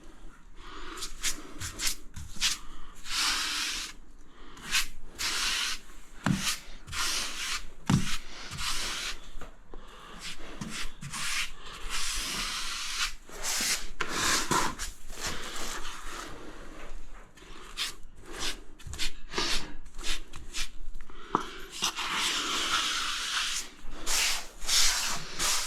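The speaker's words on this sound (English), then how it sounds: "Try and wipe off as much excess as you can, or you'll use twice the amount of grout." Excess grout being wiped off tiles, a steady scrubbing and rubbing with a sponge or float that runs continuously at close range, broken by brief dull knocks and louder swishing passes.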